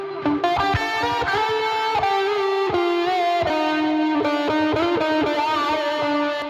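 A heavily distorted electric guitar plays a solo in a dark alt-R&B track, a melodic line of sustained and bending notes with thick, saturated tone, loud and alone.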